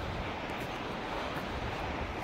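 Fungfungey waterfall in Taplejung, Nepal, a steady broadband rush of falling water heard from nearby, continuous and unbroken with no talking.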